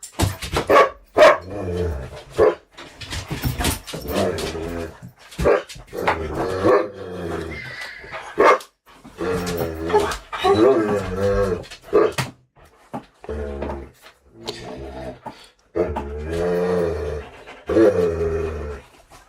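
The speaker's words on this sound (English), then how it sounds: "little bit of dog-related chaos" Dogs in a home bark, whimper and pant in repeated close bursts with short gaps, loud and chaotic, with some low growling mixed in.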